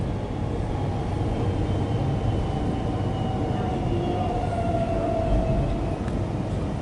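A Melbourne suburban train rolls into Ringwood East station with a low steady rumble and a faint rising whine, heard from on board at even loudness.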